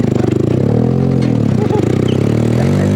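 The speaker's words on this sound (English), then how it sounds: "listen to how much popping this engine is doing" Buggy engine running rough, with a steady close mechanical drone broken by rapid irregular pops and crackles throughout.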